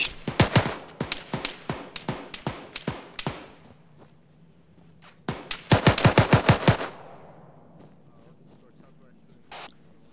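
Gunfire on a military field training exercise: rapid bursts of close, loud shots in two automatic strings separated by a pause, then a faint later report, with voices over radio around them.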